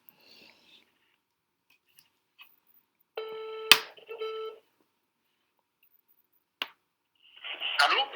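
A telephone redials a dropped call. There are a few quiet electronic beeps and clicks, then a brief bright tone burst, another click and a hissy burst, spaced by silence.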